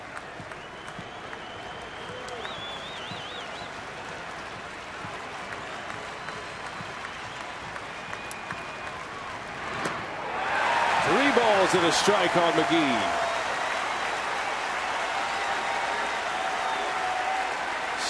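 Sellout baseball crowd at a Milwaukee ballpark roars on its feet after a strike, a steady wash of cheering that swells louder in the second half, with a play-by-play announcer talking over it early on.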